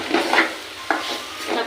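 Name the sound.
stirring tomatoes frying in pan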